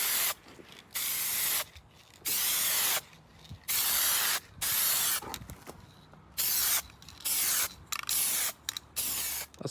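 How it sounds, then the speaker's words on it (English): Black primer hisses from a spray can onto a Mercedes R107 centre console in repeated short bursts, each lasting about half a second to a second, close and loud, with quiet pauses between passes. "Obviously the disadvantage of using a black primer is that you can't see where you've sprayed"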